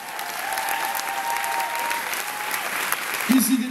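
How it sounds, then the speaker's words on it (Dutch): Audience at a Flemish song gala in De Panne applauding a singer, a loud sustained round of clapping from a crowd, with a voice starting to speak near the end. "En geef hem ook een gouden applaus"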